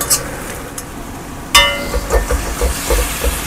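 Ginger garlic paste hitting a hot pan with onions for a meat curry bursts into a sudden loud hissing sizzle, followed by a run of rhythmic stirring scrapes, after a quieter stretch of faint pan noise.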